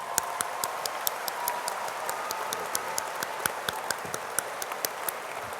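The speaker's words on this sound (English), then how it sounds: "And now a round of applause." An audience applauds for university scholars at a Dalai Lama peace event. The clapping is steady and fairly even, with sharp individual claps standing out, and sounds moderately distant in a large hall.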